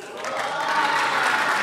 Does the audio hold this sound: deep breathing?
no